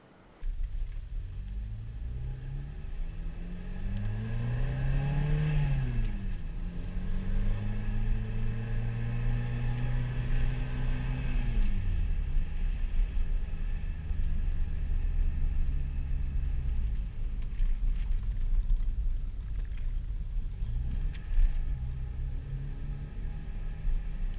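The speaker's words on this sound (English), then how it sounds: "So the Corrado is a blast to drive, so let's take it for a drive" A Volkswagen Corrado driving, its steady engine drone rising and falling through gear changes over a constant road rumble heard from inside the cabin, with no talking.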